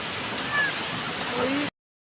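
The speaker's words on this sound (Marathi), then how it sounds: "बघा ही धबधबा" Water rushes steadily at Shri Ram waterfall near Killedharur fort, a broad continuous roar heard close up for under two seconds before cutting to silence.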